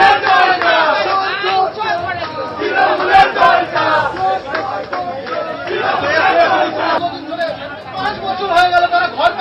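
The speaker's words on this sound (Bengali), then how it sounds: "চোর স্লোগান দেওয়া হলো।" Protesters shout angry chants at TMC MLA Kunal Ghosh, a dense crowd of raised voices calling out slogans in waves, loud and continuous with overlapping chatter.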